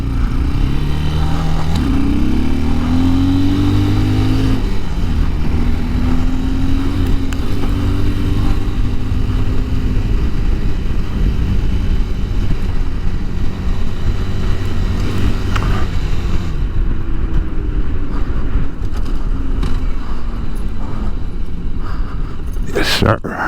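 A Bashan Brozz motorcycle rides down Bedford Avenue in Brooklyn lunchtime traffic, its steady engine drone rising and falling in pitch under heavy wind rumble, loud and continuous throughout.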